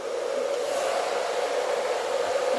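A hair dryer blowing steadily on clip-in hair extensions, a constant close whooshing hum with a strong motor whine, unbroken and alone without talk.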